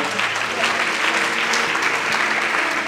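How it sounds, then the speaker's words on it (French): Church congregation applauding and cheering together, a dense steady wash of clapping that fills the space from start to finish, with voices mixed in. "Est-ce qu'on peut acclamer le Seigneur?"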